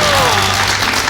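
Studio audience applause on a Korean talk show about education, loud and continuous for the whole short stretch, blended with a voice and a steady background tone.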